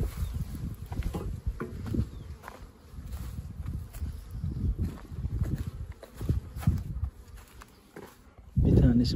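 Agitated, newly arrived honeybees swarm around traditional hives at an apiary. Their dense, low buzzing hum runs steadily throughout, with faint rustles and a louder close burst near the end.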